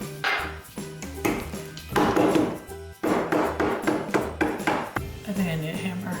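Repeated hard blows crack peppermint candies wrapped in fabric, arriving in uneven bursts of sharp thumps and crunches, with a voice briefly heard between strikes.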